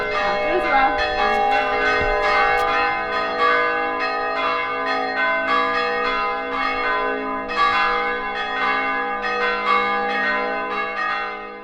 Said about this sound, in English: it's a really loud church bells ringing